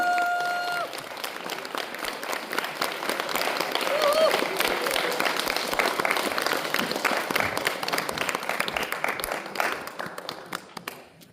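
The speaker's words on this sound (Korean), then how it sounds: "플래티넘 광대사님 모시게 뜨거운 박수 부탁드리겠습니다." An audience gives warm, sustained applause to welcome a speaker to the stage at a company event, loud and dense clapping that swells and then tapers off near the end.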